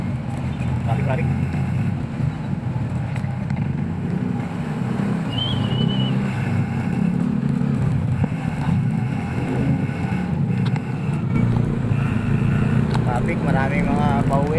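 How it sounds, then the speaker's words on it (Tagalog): Steady road traffic of cars, motorcycles and trucks heard from a bicycle on the way home, a constant engine rumble with wind noise and occasional horn-like tones, a voice speaking over it at times. "Traffic pa rin dito."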